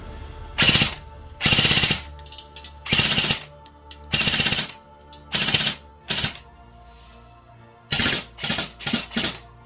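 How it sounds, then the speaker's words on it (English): A Classic Army Stoner 96 airsoft light machine gun fires loud, close bursts of rapid rattling shots separated by short pauses, ending with several quick short bursts as it runs dry. "I'm just going to run it out of ammo and then we'll call it good."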